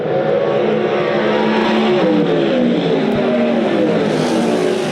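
USAC Silver Crown race cars at the DuQuoin, Illinois mile, racing through turns 3 and 4, several engines roaring loud and steady with overlapping pitch shifts as the cars sweep past.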